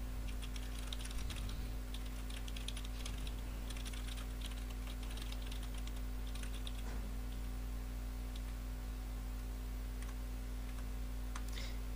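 Light, irregular keystroke clicks from a computer keyboard as text is typed, faint beneath a steady electrical hum, with no talking.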